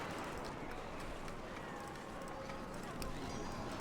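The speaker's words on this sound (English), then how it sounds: "We're going to charge him in the back with our horses." Cavalry horses charge in a medieval strategy game, a steady rush of hooves and clatter under battle noise, with a voice talking over it.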